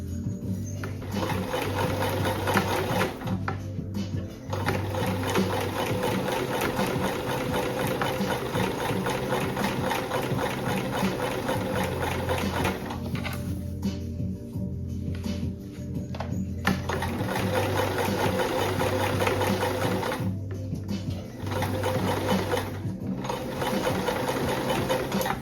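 A sewing machine runs in long, steady bursts stitching a fabric blessing bag, its rapid needle chatter loud and close, with brief pauses between seams and no voices.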